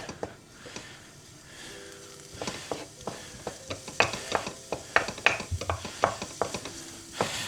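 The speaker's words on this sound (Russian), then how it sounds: "И отправляем наше сало сюда. И нам надо это немножко пережарить." Pork fat (salo) frying in a pan while being stirred, with steady sizzling and crackle plus frequent sharp clicks of a utensil scraping and stirring, growing busier over time; close and moderately loud, no talking.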